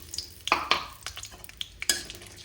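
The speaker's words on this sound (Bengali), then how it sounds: "কাজু আর কিচমিচটা দিয়ে আমি ভেজে নেবো সামান্য।" Cashews and raisins tossed into hot refined oil, with a few sharp clinks of a metal spoon against a pan over a faint bubbling fry, stirred in short bursts with no one speaking.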